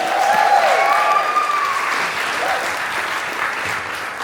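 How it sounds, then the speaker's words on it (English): Steady crowd applause at a carnival band launch, a dense wash of clapping with a few cheers or whistles over it, slowly easing in strength over several seconds. "Big round of applause to them, please."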